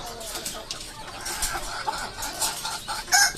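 Chickens cluck and chatter close by in short irregular bursts, several birds overlapping with faint background noise.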